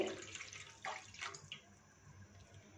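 Milk for macaroni pasta is poured into a pan, giving faint, brief liquid splashes and trickles before the sound fades into quiet.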